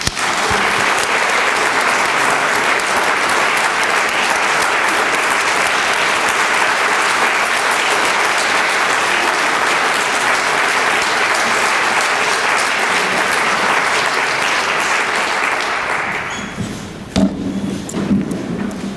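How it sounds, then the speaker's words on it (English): A room of guests at a human rights awards breakfast gives an award recipient a sustained round of applause, loud and even for many seconds before fading into quieter room noise. "Please give Greg a round of applause."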